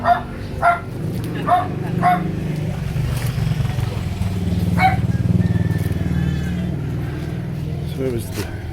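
A dog on a morning walk gives four sharp barks in quick succession, then one more later, close by, over steady low traffic rumble from passing cars or a motorbike.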